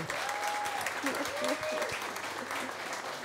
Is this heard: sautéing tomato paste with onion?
no